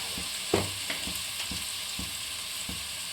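Sattu, roasted gram flour filling, fried with salt in a pan for paratha: a continuous soft sizzle with regular stirring scrapes roughly every half second, close and alone.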